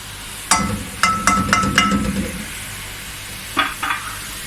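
Apples are dropped into sugar water in a pan and stirred, giving a burst of quick clattering, clinking strokes, a short pause, then two more scrapes near the end.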